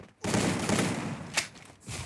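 Dense bursts of rapid gunfire from a game, loud and continuous, with a sharper crack partway through.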